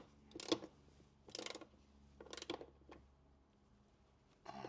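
A car door check strap is retightened with a hand tool, giving four short clicking, ratcheting bursts spaced about a second apart, close and fairly quiet, with no talking.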